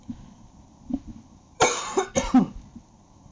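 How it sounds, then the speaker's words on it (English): Two sharp dry coughs close to the microphone, one right after the other, over quiet background. "Wait, I need to cough."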